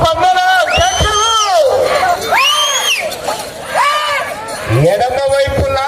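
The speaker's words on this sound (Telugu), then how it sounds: "జనాల్లో రకాల స్పందన కేకలు" Spectators at a bull cart pulling contest in Kadapa shout and cheer in waves of loud, strained yells, a close, rowdy crowd reacting together.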